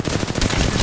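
Rapid machine-gun fire in Apex Legends, a quick close burst of evenly spaced shots, loud and sustained for under a second.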